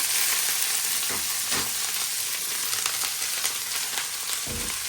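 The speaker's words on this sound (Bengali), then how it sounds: "কালো জিরা আর শুকনো মরিচ ফোড়ন দিয়ে দিলাম বাঁধাকপির মধ্যে।" Shredded cabbage fries in hot oil tempered with black cumin and dried chili, producing a loud, constant crackling sizzle with occasional stirring knocks and scrapes close by, no voices.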